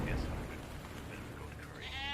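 A goat bleats in a video game, a short wavering cry near the end of a brief stretch of steady background noise.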